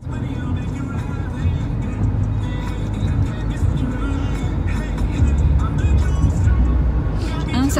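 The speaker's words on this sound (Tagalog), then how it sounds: "Mag-drive si Papa." A car is being driven with the family inside, its engine and road noise forming a steady, loud low rumble from within the cabin, with people talking over it.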